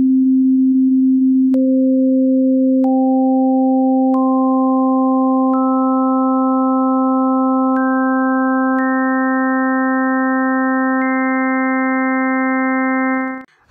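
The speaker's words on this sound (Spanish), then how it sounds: "Con este sintetizador podemos unir varias notas puras, por lo que si tocamos esta nota, en esta gráfica vamos a poder combinar armónicos individuales" A synthesizer builds a chord from pure sine-tone harmonics: a steady low tone holds while higher pure tones enter one by one at intervals, stacking into a sustained, bright chord that cuts off at the end.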